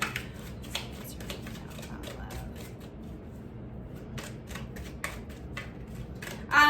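Soft, rapid riffling of playing cards being shuffled in repeated bursts, close by, with quiet pauses between rounds and no talking.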